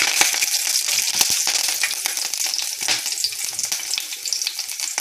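Green chillies and a small broken cinnamon stick fry in hot oil, a loud, close, continuous sizzle with crackling pops and a few stirring clinks.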